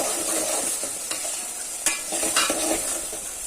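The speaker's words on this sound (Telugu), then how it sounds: "ఇప్పుడు దోరగా వేగిన తర్వాత దీంట్లో మనం చికెన్ వేసేస్తాం" Chicken frying in a pan while being stirred, a constant bright sizzle with irregular scraping and tapping of the spoon, close and steady throughout with no voices.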